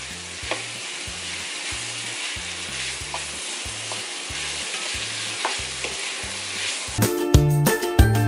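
Squash and pork sautéing in a pan for a Filipino mixed-vegetable dish, a steady close sizzle with repeated stirring scrapes; other sounds take over for the last second.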